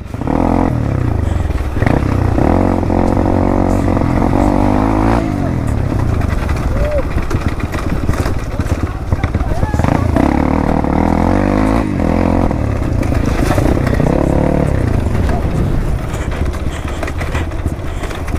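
A dirt bike engine drones loudly with shifting revs and rattling clatter on a steep downhill run over a rough, risky road, while voices talk and shout over the ride.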